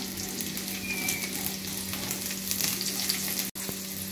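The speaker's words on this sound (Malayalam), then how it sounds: "ഇതിലേക്ക് നമുക്ക് വെളുത്തുള്ളി ഇട്ട് കൊടുക്കാം. അതുപോലെ തന്നെ ഇഞ്ചി ഇട്ട് കൊടുക്കാം. ഇതൊന്ന് വാടണം." Garlic and ginger fry in hot ghee, making a dense, steady close-up sizzle with faint stirring scrapes and one brief dropout near the end.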